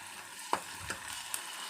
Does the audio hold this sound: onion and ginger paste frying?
yes